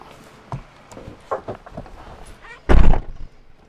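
A fire bureau truck's compartment door is pulled open with a few light clunks and rattles, then swings shut in one loud, close slam, with a brief low rumble after the impact.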